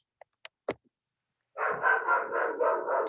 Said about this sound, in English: And that's Riley barking.